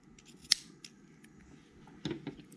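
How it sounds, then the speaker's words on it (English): A single crisp snip of scissors cutting knitting yarn, close and quiet, followed by faint rustling of handling. "Then snip that yarn"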